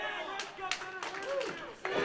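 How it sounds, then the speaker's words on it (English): Scattered clapping from the crowd at a Ryse Wrestling event, several sharp claps rising over a background of crowd murmur, with a voice speaking on top. "This crowd is so invested in this contest right now."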